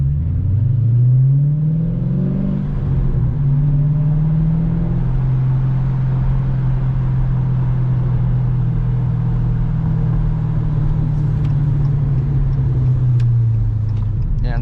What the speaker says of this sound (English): And the sound you hear, don't be scared, that's just Flowmaster Super 10